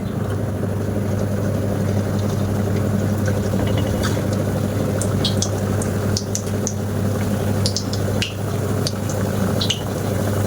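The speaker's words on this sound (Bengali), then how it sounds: "এবার আমি একটা একটা করে পেটিসগুলো দিয়ে দেব তেলের মধ্যে" Steady sizzling and bubbling of potato patties frying in hot oil, with a constant low hum and occasional soft crackles.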